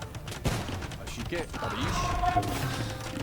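Bombard cannons and janissary gunfire crackle through a busy Age of Empires II battle, with clustered shots, thuds and creaking mechanisms blending into a dense, continuous din at moderate loudness.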